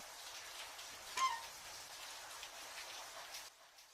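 Water leaks inside an apartment in a video game, a soft, steady watery patter and trickle, faint and continuous, with one brief brighter chirp.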